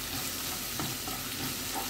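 Garlic sizzles and fries steadily in a pan for a mushroom and creamy chicken sauce, with a dense continuous crackle and a few faint stirring scrapes. No voices are heard.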